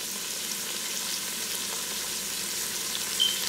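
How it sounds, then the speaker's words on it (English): Onions and ham saute in a Ninja Foodi pressure cooker on sear/saute mode at full temperature, a continuous close hissing sizzle holding steady throughout with no talk. "our sear saute mode has come to full temperature, so it is starting to cook and simmer down"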